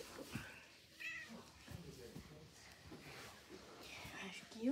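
A cat meows a few times after a fight, its cries mixed with close household talk and soft whispering throughout.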